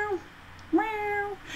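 A cat in The Sims 3 meows twice, a short call followed by a longer drawn-out meow, clear and close against a quiet background.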